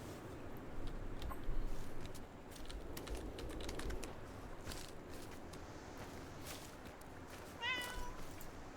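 A house cat meows a few times at close range amid soft shuffling and light tapping, with brief faint sounds of movement nearby.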